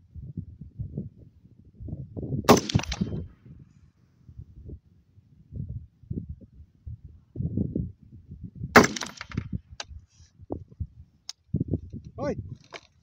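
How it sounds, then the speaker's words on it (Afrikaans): Two sharp rifle shots crack several seconds apart outdoors, each a brief loud burst, with someone talking quietly in between. "Gaan 2 skote skiet."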